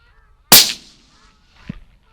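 A single sharp .22-250 rifle shot fired at a flock of geese, loud and close with a short fading echo, followed about a second later by a faint goose honk.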